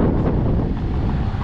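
Strong seaside wind buffets the microphone in a steady, loud roar, with a hint of surf or water beneath it and no voices, on the coast at Çeşme.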